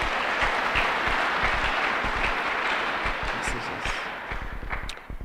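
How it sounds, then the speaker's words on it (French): Congregation applauding during a Sunday church service, dense steady clapping from many hands with some voices mixed in, fading slightly toward the end. "Applaudissons pour le Seigneur."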